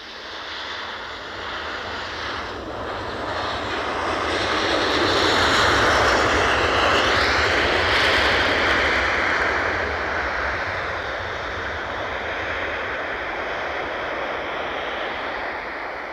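A plane passing at Edinburgh airport, its engine roar a broad, steady rumble that swells toward the middle and eases off again, loud and continuous with no talking.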